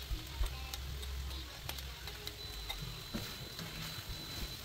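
Beef sizzling in a pan for bistek Tagalog, a soft, steady frying crackle with light stirring ticks and taps close by.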